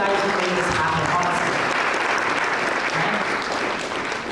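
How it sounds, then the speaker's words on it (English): Sustained applause from a large crowd at YouTube Creators Day 2022 in Nairobi, dense and steady clapping throughout with no pauses. "That, I think, deserves a round of applause for all of the guys who made this happen,"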